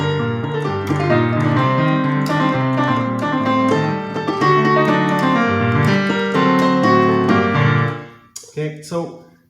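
An orchestral excerpt of Mozart's Symphony No. 40, with dense strings carrying the melody over a continuous accompaniment, loud and full throughout before ending in a few detached closing chords.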